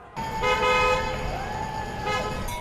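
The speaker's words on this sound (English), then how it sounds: "Downtown Wichita is a flurry of car horns, flags, and protests" Car horns honking at a downtown Wichita protest: several overlapping sustained toots of differing pitch over steady traffic and crowd noise, fairly loud and continuous.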